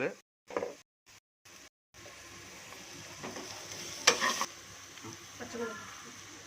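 A spoon stirs masala sizzling in a frying pan for a bottle gourd dish, with scraping strokes over a soft, steady fry and a few louder clatters, following some brief earlier sounds and speech.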